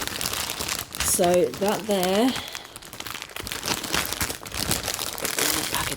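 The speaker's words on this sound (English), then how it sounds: "I'm sorry for the rustling." Plastic packaging from a Diamond Art Club diamond painting kit crinkles and rustles in bursts while someone talks over it, close to the microphone.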